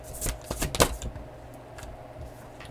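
A deck of Beyond Lemuria oracle cards is shuffled close by in a few quick riffling bursts, followed by fainter soft card taps and slides.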